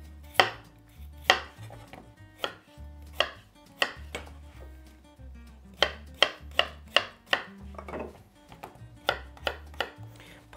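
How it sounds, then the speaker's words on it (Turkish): Potatoes being chopped on a board, a knife striking in sharp irregular knocks, some in quick bursts, close and clear with no talking. "Patatesleri doğruyordum."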